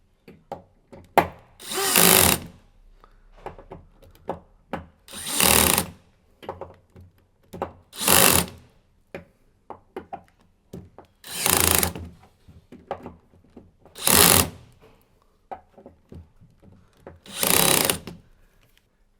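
A power tool tightens the clamp bolts on an Aladdin EasyFit isolator valve fitted to pipework, six loud close whirring bursts of a second or so each, separated by quieter clicks and handling noise as it moves from bolt to bolt.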